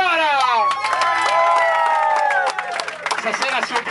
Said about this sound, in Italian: forte l'applauso alla prima sorella, Clara!